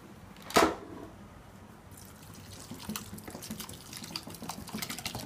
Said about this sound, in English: And wash it in cold running water.